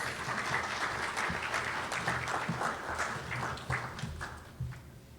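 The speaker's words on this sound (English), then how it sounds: "Please give her a round of applause, please." An audience breaks into a round of applause for the opening speaker at a women's awards ceremony, steady dense clapping that rises and holds, with a few sharper claps standing out.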